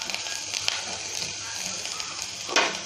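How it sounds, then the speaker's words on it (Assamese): Chopped onions hiss and sizzle in hot oil in a home kitchen pan, a steady close frying crackle throughout with a louder burst of sizzling near the end. "তেলখিনি গৰম হৈছেগৈ এতিয়া পিঁয়াজখিনি দি দিওঁ"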